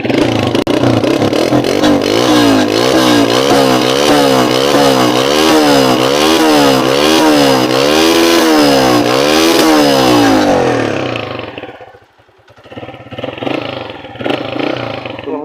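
An old Honda CG125 four-stroke motorcycle engine revs up and down in quick, loud, close bursts, then drops back to a quieter, uneven idle near the end.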